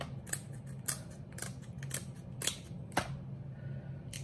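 Scissors snip in a steady series of crisp clicks, roughly twice a second. The sound is close by and fairly quiet over a low background hum.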